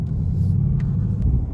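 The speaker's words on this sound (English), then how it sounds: "The car will start moving on its own without any throttle applied." Manual stick-shift car pulling away on the clutch with no throttle, a low steady idle rumble heard close up, with a faint click.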